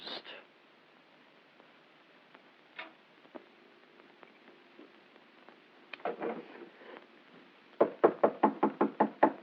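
Knocking on a front door in an old comedy film, a few scattered taps then a fast run of about eight sharp raps near the end, over a quiet hiss.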